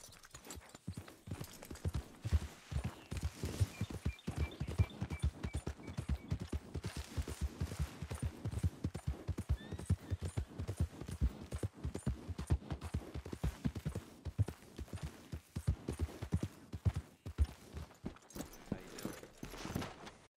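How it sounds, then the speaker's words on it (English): Horse hooves clip-clop in steady, rapid rhythm throughout a ride toward Valentine Station in the video game Red Dead Redemption 2, close and continuous with faint background game sounds. "you ride your horse over to Valentine Station"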